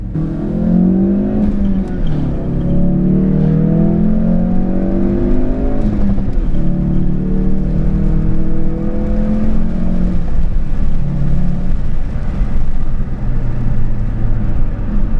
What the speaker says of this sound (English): Hopefully you guys can hear kind of what the car is like under acceleration